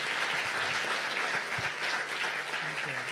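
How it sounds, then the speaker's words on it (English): Audience applause after a keynote at a summit, a steady wash of clapping from a room of people that holds at even volume throughout, with no talk over it. "let's give a round of applause for Kahshanna."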